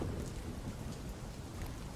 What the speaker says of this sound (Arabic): فجأة نزل المطر عليهم